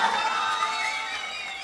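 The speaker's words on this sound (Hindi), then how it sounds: "एक मर्तबा जोरदार तालियां।" Crowd at a Hindi-Urdu poetry recital cheers and claps loudly for Imran Pratapgarhi, a dense sustained roar of voices and applause that fades slightly over its short length.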